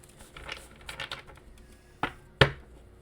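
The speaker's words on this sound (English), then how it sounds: "Yes, I am shuffling and doing things differently." A tarot card deck is shuffled by hand, soft papery riffles and flicks in a quick cluster, then two sharp taps as the cards knock together, close and fairly quiet with no talking.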